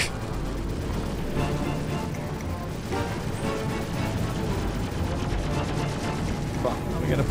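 A missile attack on a spacecraft in the Star Citizen space combat game produces dense, continuous rumbling blasts and crackling impacts, loud and unbroken throughout.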